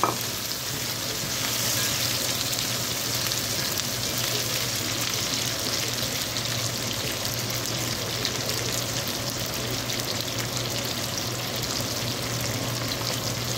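Meatballs fry in a pan with a continuous loud, close sizzle and spitting crackle that holds steady throughout, with a faint low hum beneath and no voices.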